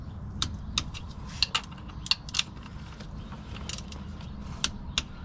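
A torque wrench tightens the front dogbone mount bolts on a Mk6 Volkswagen GTI, giving bursts of sharp ratcheting clicks and metallic ticks at irregular intervals over a low background rumble, close by, with no talking.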